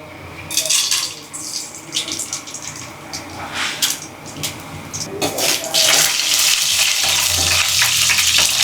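Spices hit hot oil with bursts of crackling sizzle, building into a continuous loud frying hiss in the second half.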